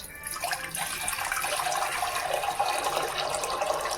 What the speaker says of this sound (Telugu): గైస్ దీని లోపల ఫుల్ వాటర్ పోసేద్దాం.